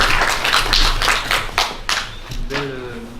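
Audience applause after a presentation at a commerce workshop, a dense burst of clapping for about two seconds that thins out, followed by a brief voice at the end.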